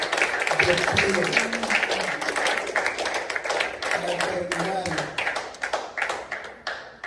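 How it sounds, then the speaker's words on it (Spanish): A church congregation claps steadily and enthusiastically while a preacher talks over the applause, which slowly thins toward the end. "Denle un aplauso al Señor Jesucristo y póngase de pie."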